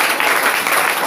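Brief burst of loud, dense clapping from a church congregation during a prayer service, close and continuous.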